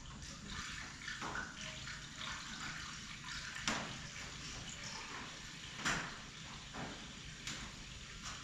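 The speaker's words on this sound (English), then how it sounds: "Should be good to dump the coolant in" Coolant poured into the radiator of a 4-150 tractor, a steady watery splashing and trickling fill that runs continuously at close range, with a few brief knocks along the way.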